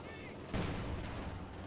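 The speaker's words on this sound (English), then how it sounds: "Actually, the sniper took a shot." A sniper rifle shot in Company of Heroes 2, Road to Kharkov map: one sharp, loud crack halfway through, rolling into a short echoing tail over battlefield noise.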